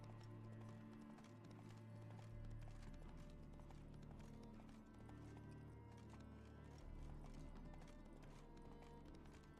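Roach, a horse in the video game The Witcher 3, clip-clops along with steady hoofbeats that stay close and loud beneath a full musical score, with the occasional snort or whinny.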